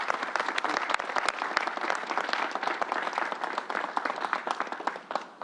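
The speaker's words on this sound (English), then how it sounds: "Tracy Edwards, let's give her a round of applause." Sustained audience applause fills a gathering at a vaccination site in Old Westbury, New York: dense, steady clapping from many hands, loud and close, continuing without a break and thinning slightly toward the end.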